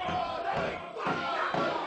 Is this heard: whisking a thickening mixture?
no